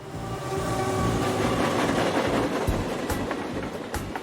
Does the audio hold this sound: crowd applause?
no